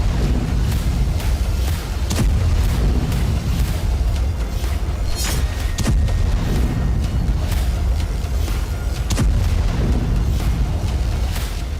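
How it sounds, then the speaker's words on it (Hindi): The Trinity nuclear test explosion in the desert at sunrise, rendered as a loud, continuous deep rumble broken by repeated sharp cracks and booming bursts that roll on without pause and with no voices. "धरती के सीने पर एक जोरदार धमाका हुआ"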